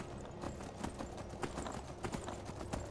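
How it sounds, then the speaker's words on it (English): Steady rhythmic clip-clop of a horse's hooves while riding in modded Skyrim, with repeated even footfalls at a trotting pace, fairly close and without talk. "Just don't make me get off my horse."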